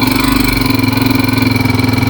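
Motorcycle engine idling steadily with a low, even rhythmic pulse, close and fairly loud; a slight rev swell near the start, no talking, during a check of the bike's battery charging voltage at a repair shop.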